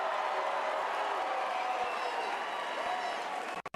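Large rally crowd for Bernie Sanders cheering, clapping and whooping in a steady, loud roar that fills the space, then cutting off abruptly at the end.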